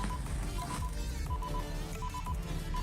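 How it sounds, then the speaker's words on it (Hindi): A D20 smart watch gives repeated short electronic notification beeps in bursts, fairly faint, over a steady background hiss. "आपको आवाज़ आ रही होगी, नोटिफिकेशन दे रहा है"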